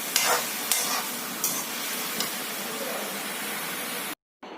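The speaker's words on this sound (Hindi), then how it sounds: "ये घी डालने के बाद भी मैंने इसको भून रही हूँ मैं अच्छी तरह से" Grated bottle gourd sautéing in ghee in a pan for a sweet barfi: a steady loud sizzle with a few scraping stirs at regular intervals, then a brief cut to silence near the end.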